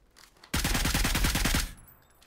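Automatic gunfire in the video game PUBG: a loud, rapid burst of roughly a dozen shots fired in one continuous string lasting about a second, with no talking over it.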